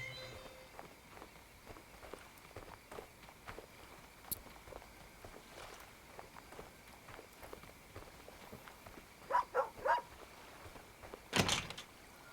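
Footsteps patter steadily through a quiet scene in the video game Superbrothers: Sword & Sworcery EP, with a dog's brief sounds and a couple of louder thuds near the end, all fairly soft and without talk.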